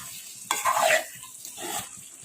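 Curry leaves dropped into frying Punjabi-style potatoes set off a sudden sharp sizzle that flares for about half a second, then fades into quieter frying with a later smaller flare, no talk.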